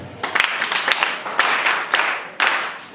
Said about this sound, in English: Please join me to have a thunderous hand clap.